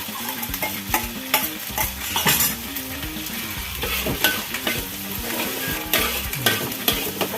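Spice paste for catfish asam pedas is stir-fried in a pan with a loud, continuous sizzle. Busy, rhythmic scraping and knocks from a stirring utensil run throughout, close up and with no speech.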